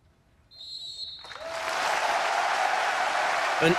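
Thunderous applause swells from a sold-out crowd at the Cambuur football stadium after a minute of silence, rising from a hush into a loud, sustained roar of clapping that fills the stands, preceded by a brief whistle-like tone.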